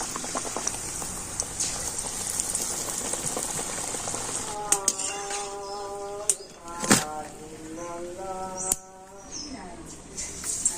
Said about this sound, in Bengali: আর এইভাবে আমি সমস্ত বেগুনিগুলো ভেজে নেব।